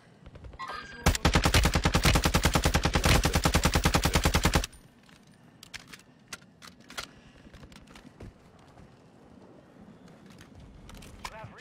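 Rapid automatic gunfire in the Call of Duty Warzone 2.0 video game, a loud sustained burst of a few seconds followed by scattered quieter shots and game noise, with players talking over it.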